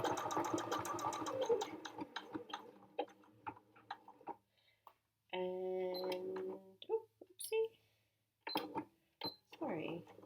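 A sewing machine stitching over fabric for a heart applique runs in a steady burst mid-clip among clicks and handling noises, with a person talking at the start and in the gaps.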